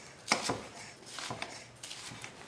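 A knife cuts shallots into thin strips on a board, a few crisp chopping taps spaced irregularly, close and quiet.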